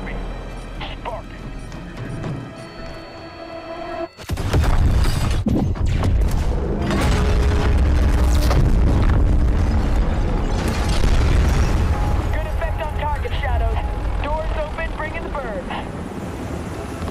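A loud explosion goes off after a lit fuse in the video game Modern Warfare. It bursts suddenly and gives way to a sustained roar of rumbling and helicopter-like engine noise, with voices talking throughout.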